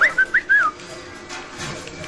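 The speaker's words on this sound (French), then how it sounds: "Vous entendez en plus le truc qui appelle les robots, ça siffle comme un chien." Shrill electronic alarm whistle from a BioShock security alarm summoning robots, heard as four rising-and-falling chirps in quick succession within the first second, loud and alone, followed by a quiet hum of game ambience.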